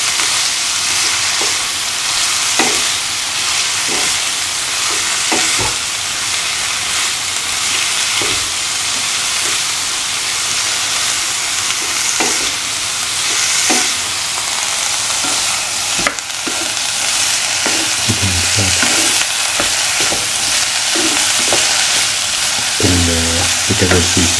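Bitter gourd (karela) pieces frying in a pan, a loud continuous close sizzle with periodic scraping stirs, steady throughout and joined near the end by a brief faint voice.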